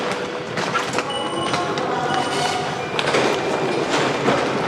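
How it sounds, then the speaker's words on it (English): A Paris metro train rumbles into a station, with rolling rail noise, thumps and clacks continuing throughout at moderate loudness and fairly close. "I think I hear the metro."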